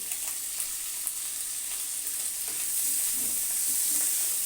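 Shrimp and greens with salt and turmeric fry in a pan, giving a soft, continuous hiss, with occasional light stirring taps beneath it.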